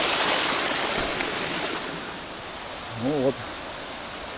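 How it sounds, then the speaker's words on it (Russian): A forest river swollen after rain rushes in a steady, broad hiss near a waterfall, loud and continuous, with someone speaking briefly near the end. "лес пересекает река."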